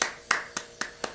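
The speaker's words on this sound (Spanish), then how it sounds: "unos aplausos." Four sharp isolated hand claps, about a quarter second apart, evenly spaced and fairly close, from a small audience in a children's story about a cricket and a mole, with no talk over them.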